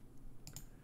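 Soft, quiet clicking in the background, two brief clicks close together over a low room hum.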